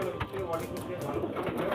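Fulshira pigeons cooing softly at close range in a loft, the low cooing running under a voice talking throughout.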